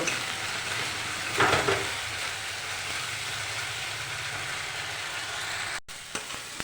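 Cumin and turmeric powder fry in a hot pan for a bhola fish curry, a steady sizzle with a brief louder stir-scrape near the start and a sharp clatter toward the end.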